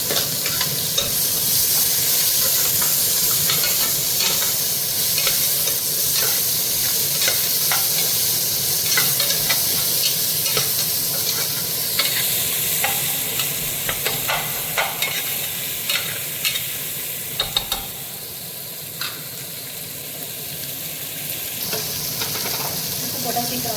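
Chopped onions sautéing in a pan for Kadaknath black chicken curry, a loud steady sizzle and frying hiss with occasional scrapes and stirring clicks that gradually quieten toward the end.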